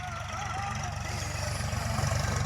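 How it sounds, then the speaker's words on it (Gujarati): A tractor pulling a rotavator runs in a farm field, its engine throbbing in a low, steady rhythm that grows slightly louder toward the end, moderately close. "ટ્રેક્ટર સવારમાં આવી ગયા છે રોટાવેટર હાંકવા ખેતરમાં"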